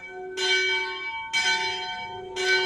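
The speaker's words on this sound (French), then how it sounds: "Les cloches sont en train de sonner." Church bells ring out in three clear, resonant strikes spaced about a second apart, each ringing on with a long shimmering decay over a quiet background.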